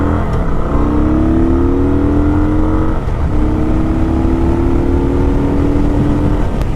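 A 2021 Kawasaki Vulcan 900 cruiser motorcycle pulls from a standstill toward 60 mph. The loud engine note climbs in pitch, dips briefly at a gear change, then rises again, heard close and alone.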